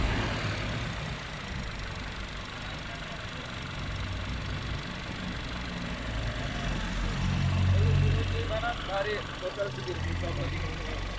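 A car engine idles steadily at a fuel station after the throttle is released, with a low rumble under someone talking nearby.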